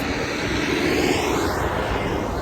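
A loud tractor engine roar rumbles past at close range, a broad heavy drone that swells slightly and shifts in pitch as the tractor goes by on a snowy evening.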